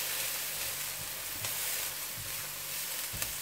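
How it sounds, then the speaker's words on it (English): Shrimp frying in a hot pan as chili pepper goes in: a constant hissing sizzle at moderate level, with faint stirring clinks, no voices. "And now I will be putting in my chili pepper"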